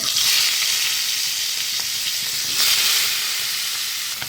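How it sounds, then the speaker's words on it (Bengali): A rohu fish head sizzles and hisses loudly in hot oil in a wok, a steady, close frying crackle that swells briefly partway through. "তেল গরম হয়ে গিয়েছে মাছটা দিয়ে দেব"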